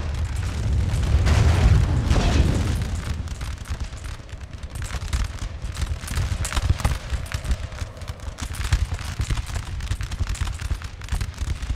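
Heavy cannon booms and musket volleys crash across a Napoleonic battlefield in Napoleon: Total War, a loud deep blast at the start fading into a steady, rumbling crackle of continuous fire.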